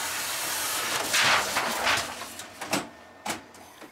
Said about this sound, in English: I then printed them out using my large format printer